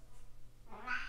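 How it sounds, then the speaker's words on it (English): A pet cat meows once near the end, a short close call following a quiet stretch of faint room noise. "That's my cat, Mocha."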